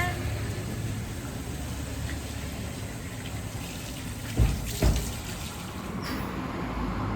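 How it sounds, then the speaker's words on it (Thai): Tap water runs steadily in a continuous rushing stream over food being rinsed, with a couple of brief clunks partway through; no clear talking. "ให้น้ำไหลผ่าน"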